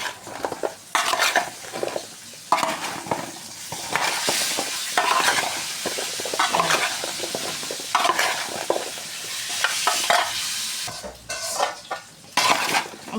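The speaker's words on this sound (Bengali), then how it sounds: "এই যে সুন্দর করে মাখিয়ে নিলাম লবণ হলুদ দিয়ে" Mango pickle pieces being mixed by hand or spoon with salt and turmeric in a bowl, giving continuous close wet squelching and stirring with occasional clinks of a utensil against the dish, no talk.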